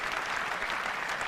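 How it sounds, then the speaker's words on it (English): Thin, scattered applause from a product launch audience, a steady wash of light clapping without cheering, fairly quiet and continuous throughout. "So notice there's not very much applause."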